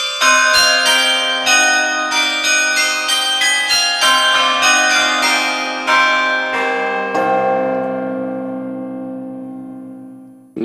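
Bell-tower synth patch pitched up one octave, ringing out as a rapid sequence of bright, high bell strikes with long shimmering decay. It is loud and alone, fading into a sustained ringing tail near the end.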